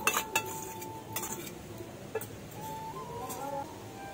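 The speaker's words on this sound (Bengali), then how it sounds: "এখন কড়াই গরম হয়ে গেছে, এর মধ্যে নারকেল দিয়ে দেবো" Grated coconut stirred around a hot wok with a utensil, giving scattered clinks and scraping taps against the metal over a faint low sizzle, moderately quiet and close.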